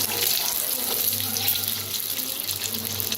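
Eggs fry in oil in a pan for a restaurant-style egg curry, a continuous close crackling sizzle with a low hum underneath, no speech.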